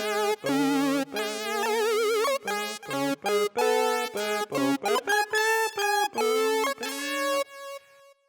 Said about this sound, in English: And we'll add this phase plant rhythm lead,